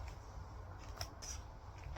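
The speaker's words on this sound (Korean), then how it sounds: "일단 비닐을 잘라야 됩니다, 여러분." Scissors snip through plastic wrap around florist foam, making a couple of short, faint crisp cuts close by over a low steady background hum.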